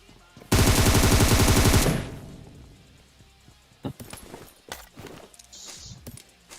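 Gunfire in the mobile game PUBG Mobile on the Erangel map: a loud, rapid automatic burst lasting over a second, followed by scattered lighter clicks and thumps.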